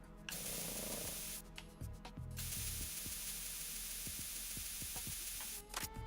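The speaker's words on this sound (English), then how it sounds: "Coolant spray wakes them up." Coolant spray hisses in the Metal Gear Solid 2 video game, with bursts of spraying interleaved with rapid mechanical clicking and ratcheting, close and steady throughout.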